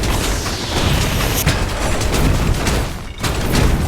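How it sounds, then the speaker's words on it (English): Enemy tower destruction in the video game Smite 2 comes through as a dense, loud wall of booming blasts and crackling bursts that barely lets up, with no voice over it. "Your team has destroyed a middle enemy tower."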